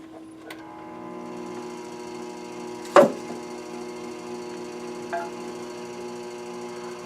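A wooden bowl spins on a lathe as a bowl gouge works it, giving a steady tonal motor hum with a few sharp taps and one loud clack, and no talking.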